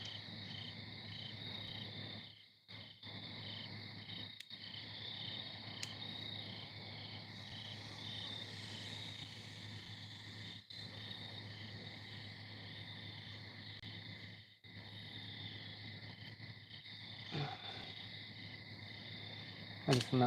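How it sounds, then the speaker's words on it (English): Steady high cricket chirring in a shed persists throughout, a dense continuous chorus with a low hum beneath and a few brief dropouts. "You guys hear the crickets in the shed?"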